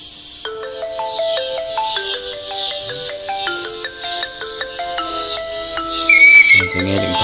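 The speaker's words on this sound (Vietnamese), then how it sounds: "mình phải nghe điện thoại xíu nha." A loud melodic phone ringtone plays a bright, repeating electronic tune for several seconds before cutting off abruptly.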